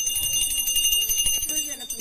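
A ringing bell before a communal aarti ritual, rapid repeated strokes with a bright sustained shimmer, loud and close, with voices and crowd bustle around it.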